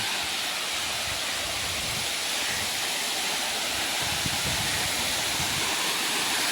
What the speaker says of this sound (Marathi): आणि वरतून असं पाणी पडतं गाईज, पांढरं शुभ्र पाणी गाईज